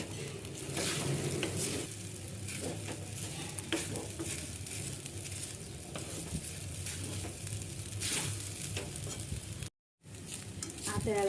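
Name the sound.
stirring and mixing sabudana khichdi in a frying pan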